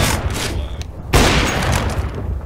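Nova shotgun firing in a video game: one loud, sharp blast partway through that stands out from a dense, rumbling spread of gunfire and effects.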